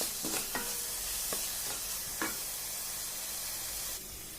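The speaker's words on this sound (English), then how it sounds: "just to brown the onions, to let the onions cook" Onions sizzle and fry in a pan, with several scraping stirs early on over a steady hiss that softens near the end.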